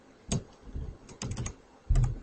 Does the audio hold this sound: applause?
no